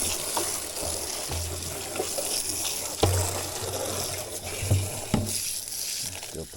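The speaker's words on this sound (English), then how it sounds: "we got the water hose turned on" Water runs steadily from a garden hose turned on outdoors, a continuous broadband gush with a few brief knocks and splashes over the flow, and no talking.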